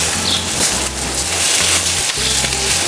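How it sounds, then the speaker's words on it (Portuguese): Rice frying in a pan to start a fillet and mushroom risotto, a loud continuous sizzle with scraping stirring strokes recurring every second or so, close up and with no talk. "Agora eu vou fritar o arroz, como você faz com qualquer arroz."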